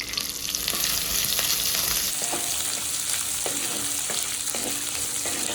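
About two hundred grams of small onions sizzling steadily in a hot iron kadai, a constant close frying hiss broken by occasional scrapes and taps of a spoon stirring, with no voices.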